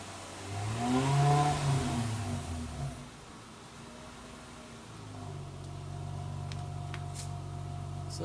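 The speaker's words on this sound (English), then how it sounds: "let's go ahead and see what happens when we rev." A 2003 Acura CL Type-S engine fitted with a Comptech header revs up to a loud swelling peak around 3000 RPM, then falls back to a steady, humming idle that continues to the end.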